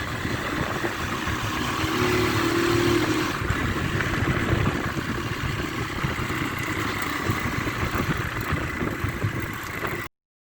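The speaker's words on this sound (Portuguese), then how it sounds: "põe a moto pra andar de boa, suave, tranquilo, sem se incomodar" A motorcycle cruises gently through a residential neighborhood, its mid-pitched engine droning steadily with a light rise around the start, wind rushing past the rider throughout.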